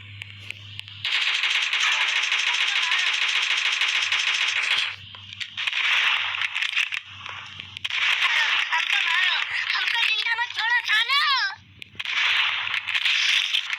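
Rapid automatic gunfire in a shooter video game, long sustained bursts broken by short pauses, loud and close, with a few single shots and tonal game effects mixed in.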